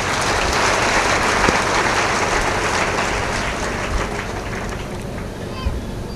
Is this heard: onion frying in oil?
no